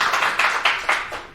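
Applause from an audience at a political candidate event, a short burst of several bright, rhythmic clap clusters, close and fairly loud with no talking.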